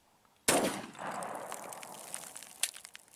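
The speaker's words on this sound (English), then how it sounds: "All right, shooting the Buffalo Boar, 45 Super." A single sharp gunshot from a pistol firing a .45 Super Buffalo Bore 230-grain full metal jacket flat-nose round, followed by a decaying echo and a fainter metallic clack about two seconds later.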